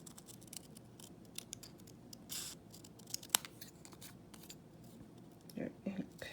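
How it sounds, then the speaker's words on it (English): Scissors snip a curved decorative design into inked paper with a few quiet, scattered cuts and soft paper rustles, close by, while a person talks faintly in between. "See, I'm just curving the scissors back and forth."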